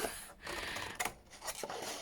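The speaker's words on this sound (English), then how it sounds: "Wow, I love new scissors." Brand-new scissors snipping through packaging, a dry rasping cut followed by a few quick crisp snips, close and fairly quiet.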